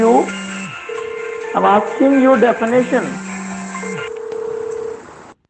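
Electronic telephone tones sound during an online English grammar class, a steady beeping tone with short keypad-like blips. A teacher's voice talks over them throughout.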